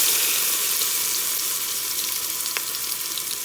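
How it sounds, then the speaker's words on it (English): Pork sears in an Instant Pot with a bright continuous hiss, close and steady, and a single faint tap partway through. "Just sear it a little."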